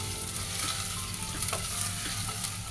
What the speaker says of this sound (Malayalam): ഇനി നന്നായിട്ട് ഇതൊന്ന് വഴറ്റി ഈ ഉള്ളി നന്നായിട്ടൊന്ന് വഴഞ്ഞ് വരണേ